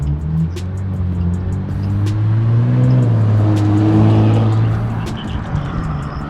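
An Infiniti Q60 Red Sport's engine rises through a pull, a loud, close exhaust drone that climbs steadily in pitch before settling near the end, with a few faint chirps in the background.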